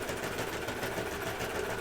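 Sewing machine stitching True/Bias Hudson pants, a steady fast whirring drone running continuously at close range for the whole stretch, with no talk over it.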